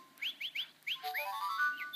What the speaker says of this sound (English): So here's a whistle button and I'm going to press it.